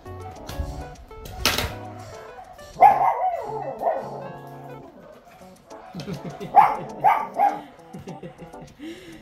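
A dog barks in a home, several short yapping barks in two bursts, mixed with people talking nearby and some light clatter.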